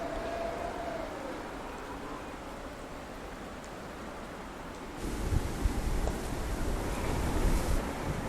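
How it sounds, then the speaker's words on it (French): Strong storm wind roars through bending trees as a constant broadband rush that buffets the microphone and grows noticeably heavier halfway through, with no voices. "Les arbres plient sous la force du vent."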